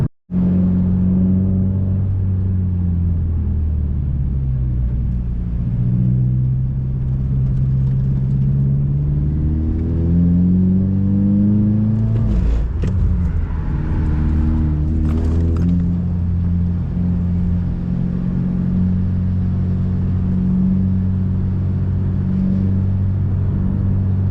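A Subaru VB WRX lapping a race track, its engine droning loudly and continuously from inside the car, with pitch climbing and falling through gear changes and a brief burst of extra noise midway.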